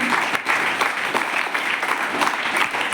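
Students and guests at a village school event clap to welcome the donor of the school's land, a continuous, fairly loud round of applause throughout.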